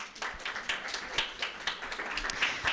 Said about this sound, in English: And then a round of applause for our amazing judges.